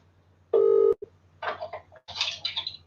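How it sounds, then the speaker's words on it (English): An outgoing phone call gives a single loud, steady tone lasting under half a second, followed by clicks and brief bursts of line noise. "Oh, ringing Robo Boy."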